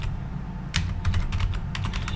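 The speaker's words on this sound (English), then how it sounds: "I can't see what I'm typing." Typing on a computer keyboard, with a quiet stretch before a burst of rapid, irregular key clicks at close range that continues to the end, over a low background hum.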